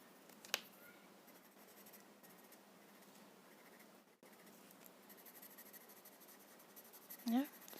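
Graphite pencil blending on paper for a Tangle mythograph drawing, a faint, close, steady soft scratching and rubbing, with a brief clearer stroke near the start and a louder scrape at the end.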